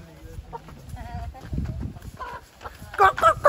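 A caught hen clucks and squawks in short agitated bursts at close range, loudest toward the end, while people talk and a voice imitates its clucking.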